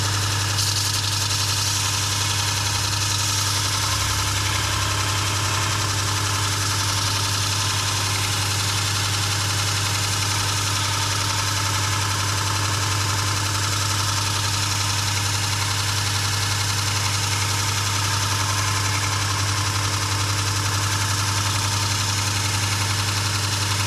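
Robert Sorby ProEdge sharpening machine running steadily: a loud, constant motor hum with a strong low tone and broadband grinding hiss, unbroken from start to finish.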